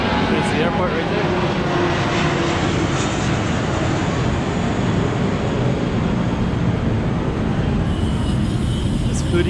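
A loud, steady roar of an airplane near Koh Samui airport fills the whole clip, broad and continuous, heard from outdoors at close range.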